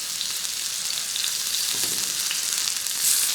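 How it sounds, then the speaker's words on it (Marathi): Slices of green (unripe) tomato roasting in oil on a hot griddle, giving a steady, close, hissing sizzle with light crackle that swells a little near the end, no voices. "आता या टोमॅटोच्या फोडी असतील त्या या याच्यावर आपल्याला भाजून घ्यायच्या"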